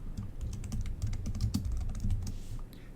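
Quick, light keystrokes on a computer keyboard as a chat message is typed, a rapid irregular run of close, soft clicks with brief pauses, alone without talk.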